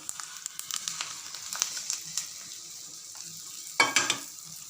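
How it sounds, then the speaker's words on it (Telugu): Hot tempering crackles and sizzles faintly as it meets gongura chutney, with scattered pops and a brief louder burst of sizzling near the end, close and quiet with no voices. "ఈ పోపులు పచ్చట్లు వేయాలి"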